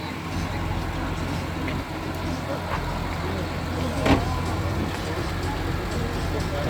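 A modified BMW M3 engine revving, a steady loud broadband roar with a brief rise partway through, recorded close with people talking over it.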